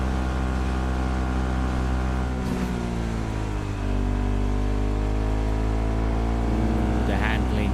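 A motorcycle engine in the Cyberpunk 2077 video game holds a steady, loud, droning hum throughout, with its pitch dipping and rising slightly as the bike rides along.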